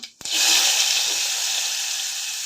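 After a short clatter, a loud steady sizzle of onions frying in hot oil with mustard seeds and cumin fills the rest of the clip, close and continuous.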